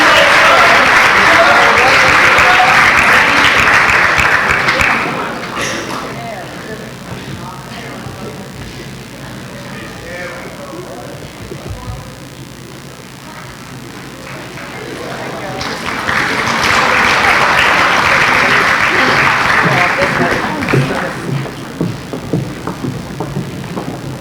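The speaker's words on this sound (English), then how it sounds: "Let's give all of our major award winners another round of applause" Audience applause at a university athletics awards ceremony, honoring the major award winners; a loud burst fades into a quieter stretch, then a second strong swell of clapping rises again near the end.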